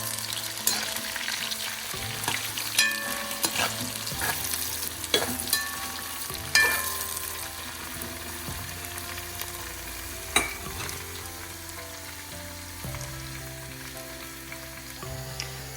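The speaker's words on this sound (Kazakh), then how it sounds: "Оған жуаны саламыз. Жақсылап салып, араластырамыз." Onions for plov fry in hot oil with a loud, unbroken sizzle, while a spoon stirs through them with occasional knocks and scrapes against the pan, no voices.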